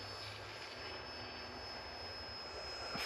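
Depron cartoon FW190 warbird RC model making a flyby, a faint steady electric whine with a thin high tone held throughout, distant and constant with no talk.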